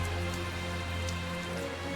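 Steady rain falling in the video game Tales of Zestiria, a soft constant patter mixed quietly under a low droning background hum, with no voices.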